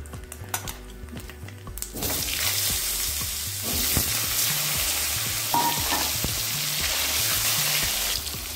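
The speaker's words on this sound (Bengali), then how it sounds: "এবার দিয়ে দিচ্ছি কেটে রাখা আলু।" Cut potatoes tipped into a pan of hot oil tempered with chilli and cumin burst into a loud, steady sizzle after a quieter start, with occasional stirring clinks.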